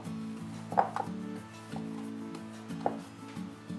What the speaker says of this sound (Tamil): இதை வந்து திரட்டுறேன்.